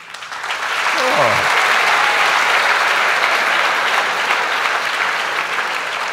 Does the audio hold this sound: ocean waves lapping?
no